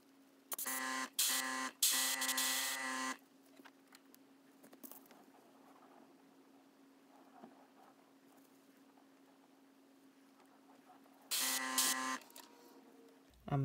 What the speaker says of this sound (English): I'm doing the red before I do the black so I don't have to go and clean out the airbrush completely